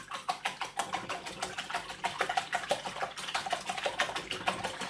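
Eggs being whisked in a bowl for a French toast omelette, a fast steady clatter of whisk strokes against the bowl, close and continuous with no talk.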